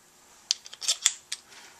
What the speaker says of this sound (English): Now I put the old bolts back in.